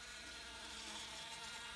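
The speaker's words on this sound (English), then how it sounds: "there's always a few bees. There's not actually that many, there's probably about 10 in there, but they make a bit of a noise" About ten honey bees buzzing inside a hive super turned on its side, a faint, steady droning hum with no break throughout.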